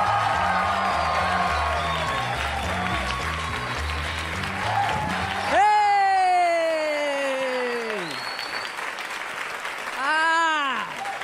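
A stand-up comedy audience in New York applauds and cheers a comedian taking the stage for his television debut, a dense steady roar of clapping that carries on as a host's voice and then the comedian's voice rise over it.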